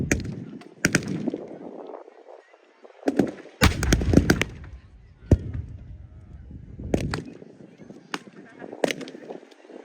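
Blank-fire gunshots crack out at a 1940s battle reenactment between British and German sides, sharp irregular bangs and short volleys at varying distances, with crowd noise faintly underneath.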